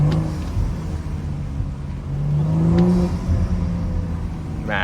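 A BMW engine revving with a deep, steady intake rumble and whir heard close up for a few seconds, swelling slightly midway, with a brief higher rise near the end.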